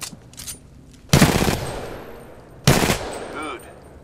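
Titanfall 2 weapon fire: two loud, sharp bursts of gunfire roughly a second and a half apart, each trailing into a fading ringing tail over quiet game ambience.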